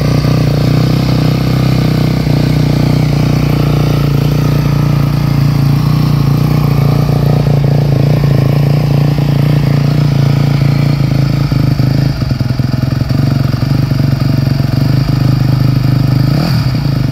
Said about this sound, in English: it actually runs and doesn't sound bad. Carb's a little off, but Casey will handle that.